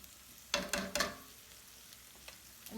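Chopped onions hit a pan on high heat and sizzle, with a few loud bursts as they land and get stirred before settling into a faint, steady frying hiss.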